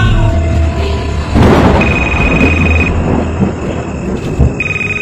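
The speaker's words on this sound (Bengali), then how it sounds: "উঠে বসে দেখি বাইরে প্রবল ঝড় বৃষ্টি শুরু হয়েছে" A thunderstorm sound effect with heavy rain: a loud burst of rumbling thunder over a dense rain wash, with a thin steady ringing tone cutting in and out above it.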